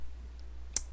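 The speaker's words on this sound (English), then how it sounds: "I'm just going to select all and click the sign up button" A single sharp computer mouse click lands near the end, close and distinct against a faint background hum.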